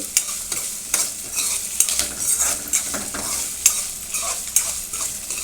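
A potato gravy (aloo gravy) fries in a pan with a steady sizzle, under repeated sharp scraping strokes of a spoon stirring at a brisk, uneven rhythm.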